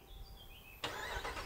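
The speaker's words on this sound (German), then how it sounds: "das Auto startet." A RAM 1500 Laramie Night Edition pickup with a 5.7-litre HEMI V8 starts by remote start outdoors: quiet ambience with birds chirping, then the engine catches abruptly and settles into a strong, close rumbling idle.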